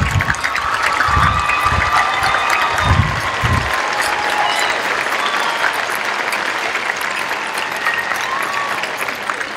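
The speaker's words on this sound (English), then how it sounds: "have all of our teachers stand up right now so we can give you a large round of applause" A graduation audience gives a large round of applause for the teachers: broad sustained clapping with a few cheers, some low thumps early on, holding steady throughout.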